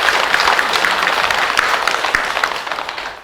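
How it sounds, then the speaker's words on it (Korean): An audience at a Buddhist winter meditation and music event claps together, a dense steady burst of applause that holds loud throughout and fades slightly at the end. "그러면 박수 한번 치세요."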